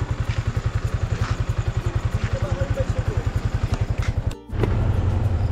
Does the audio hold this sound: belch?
no